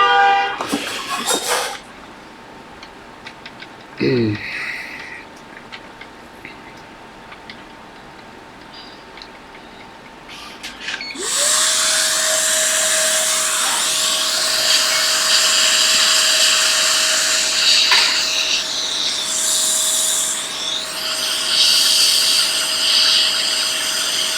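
A hot air blower aimed at a water-damaged MacBook logic board during backlight circuit repair, starting midway as a loud, steady, close airy roar with a sustained whine that continues to the end.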